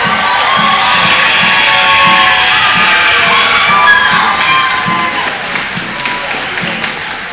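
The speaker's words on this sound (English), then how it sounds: "Let's give them one more round of applause as they head." A loud school concert audience claps and cheers for orchestra students leaving the stage, with children shouting and whooping over the dense applause before it eases slightly near the end.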